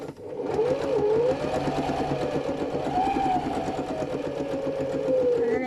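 A sewing machine runs steadily while stitching a tote bag, its motor whirring at a fast, even rhythm close up, with a slight change in pitch as the speed shifts; a voice talks over it.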